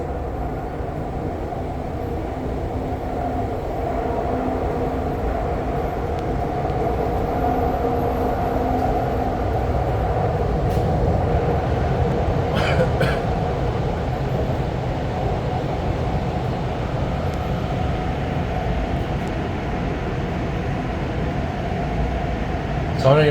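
REM light rail train running in Montreal from Brossard, a continuous loud interior rumble and roar that swells on the turns, with a few brief higher screeches midway.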